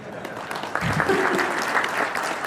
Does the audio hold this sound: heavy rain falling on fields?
no